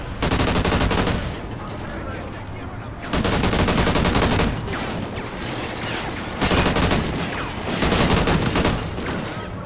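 Bursts of rapid gunfire in Call of Duty: Ghosts, loud and close, coming in several volleys separated by brief lulls, with a little indistinct talk underneath.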